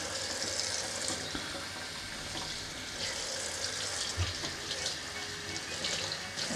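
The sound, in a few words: clean tap water running over Philips SHP9500 headphones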